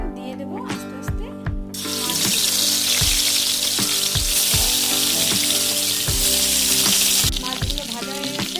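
Hilsa fish fry in oil in a wok, a loud, steady sizzle that swells after a quieter start with clinking and stirring, then drops back near the end as pieces are lifted out.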